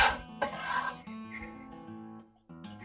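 A bench scraper rasps and scrapes potatoes across a pan into melted duck fat seasoned with garlic and rosemary, a close scraping burst followed by quieter sizzling and a second scrape near the end.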